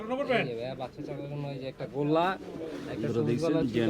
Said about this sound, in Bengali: বন্ধুরা দেখছেন এই যে এখানে কবুতর বেচা কেনা চলছে